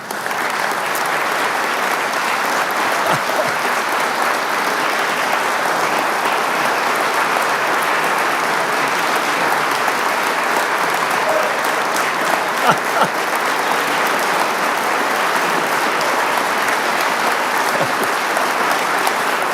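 Sustained audience applause fills a state address hall after the New Jersey governor's remarks, dense and steady throughout without a break.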